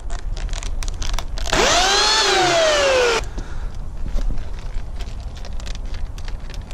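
A small chainsaw revs hard while carving into a pumpkin, a loud steady buzzing whine with a pitch that sweeps up and down, lasting under two seconds before cutting out to quiet background.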